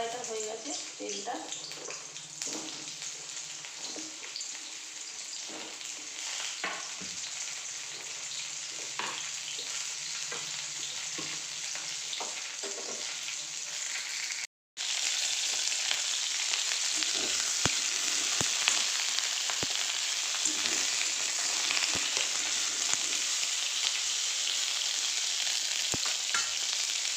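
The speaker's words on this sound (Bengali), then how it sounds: "পটলগুলো আগে একটু ভেজে নেবো বন্ধুরা" Pointed gourd (potol) pieces frying in hot oil in a wok, a steady loud sizzle with occasional stirring clatter, briefly cut then resuming even stronger.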